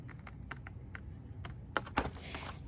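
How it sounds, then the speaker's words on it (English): Scissors snipping through paper while crafting a gift card holder, with a quick series of crisp, close cuts and a couple of louder snips near the end. "and I'm going to cut to that dot I just made."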